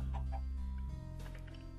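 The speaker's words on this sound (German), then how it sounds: "Auf dem Baum sitzt ein Huhn." A chicken clucks in short bursts from up in a tree in Minecraft, close and clear over a low steady background hum, with no talking.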